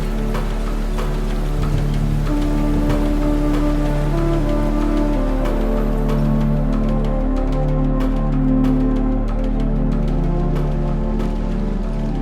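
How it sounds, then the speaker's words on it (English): Heavy rain pours in a steady, loud wash of dense patter and drops, with a sustained low hum and tonal layers beneath it. "rain began to pour in the middle of a cloudless day"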